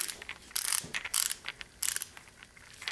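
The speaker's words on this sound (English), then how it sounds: "It's the ratcheting mechanism." A fine-tooth reversible Carlyle ratchet wrench clicks in quick bursts of ratcheting, loud and close, with several sharp rapid runs separated by short pauses.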